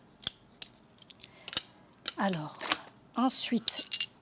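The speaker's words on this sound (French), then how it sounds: "Je préfère travailler avec le ciseau, petit ciseau, avec lequel je vais découper ma capsule en deux" Small scissors cut a coffee capsule in half with a few sharp, separate snips close by, followed by crinkly metallic scraping and rustling. A voice speaks briefly in between.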